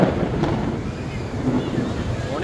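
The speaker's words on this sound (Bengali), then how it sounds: "শুনতেই পারছেন কীভাবে বজ্রপাত হচ্ছে অনেক জোরে জোরে" Loud thunder rolls during a heavy rainstorm at a temple ground near Jagannath Hall and Ramna Kali, where crowds shelter from the rain. The deep, continuous rumble fills the whole stretch with wind and rain noise.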